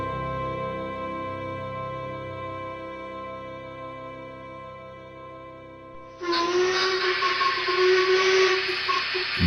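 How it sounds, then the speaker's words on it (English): A train whistle blares loud and sustained as a train pulls into a stone-built station, cutting in abruptly after a quiet musical lead-in and holding to the end. "The train's whistle blared into the open air as it pulled into the stone-constructed station."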